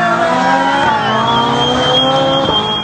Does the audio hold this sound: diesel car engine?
yes